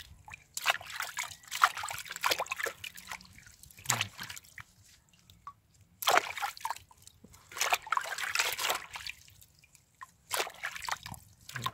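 Vegetables, freshly pulled roots, get washed by hand in water, with intermittent splashing, sloshing and dripping bursts separated by quiet gaps, close by and moderately loud.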